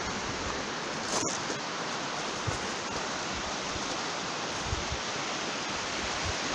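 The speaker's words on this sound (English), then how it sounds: "take another look at the babbling brook over here" A babbling brook on an autumn walk flows steadily with a soft, continuous watery rush, fairly even in level throughout with no talking.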